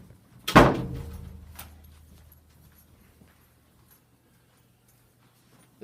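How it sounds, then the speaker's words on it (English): The back door of a classroom swings shut with a single loud, close slam, then a faint rattle and a brief knock as the room falls quiet. "John, could you close that back door?"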